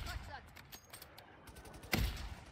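Gunfire in the video game Warzone: a quick burst of rapid shots, with a louder crack near the end, under a player's voice talking over game sound.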